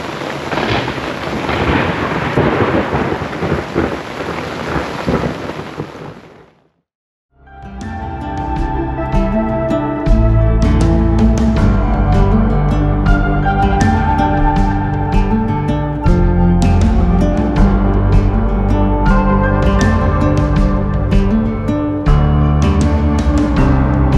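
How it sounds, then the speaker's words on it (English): A thunderstorm with heavy rain and hail in Rwanda: a dense, loud roar of falling rain runs for about seven seconds, then cuts off and gives way to music. "thunder and lightning. Rain and hail."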